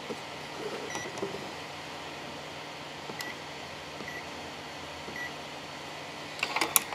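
A Harbor Freight ultrasonic cleaner with a heater runs with a steady, faint electrical hum, a few small clicks and taps over it, and a brief clatter of handling near the end.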